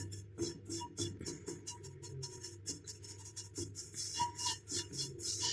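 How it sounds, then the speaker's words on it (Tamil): A spoon stirs and presses roasted powder in a pan while homemade instant hair dye is prepared, giving close, dry rasping scrapes in an uneven, repeated rhythm. "நல்லா இந்த மாதிரி கரண்டிலேயே நம்ம இதை நல்லா அப்படி கிண்டி விட்டுக்கலாம்"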